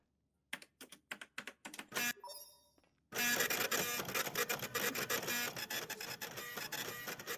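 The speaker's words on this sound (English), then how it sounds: "the printer noise" A printer runs through a job printing scan reports and films, starting with a string of short separate clicks and feed noises, then settling into a loud, dense, continuous mechanical clatter that holds steady to the end.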